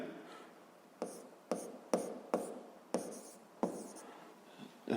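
Pen writing on paper during a physics exercise: close, quiet scratchy strokes with sharp onsets, about seven irregular strokes over a few seconds, alone without talk.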